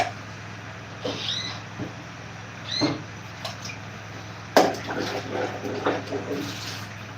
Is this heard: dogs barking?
no